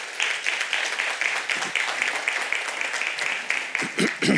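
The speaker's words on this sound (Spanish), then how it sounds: "Démosle un aplauso al Señor" A church congregation applauds during a sermon, with sustained rhythmic clapping from many people at a steady level and a few louder claps near the end.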